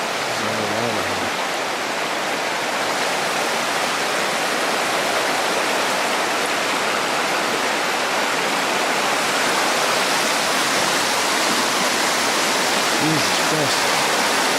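Intense floodwater in Kazabazua, Quebec, rushes as a loud, continuous broadband roar heard up close, with no pauses through the whole stretch.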